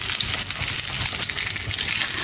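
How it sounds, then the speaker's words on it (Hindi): Potato tikkis frying in hot oil, a steady, close bubbling sizzle with a constant hiss and no pauses. "यहाँ पर हो रही हैं फ्राई टिक्कियाँ और यहाँ पर अभी हमारे वो भी फ्राई हो रहे हैं"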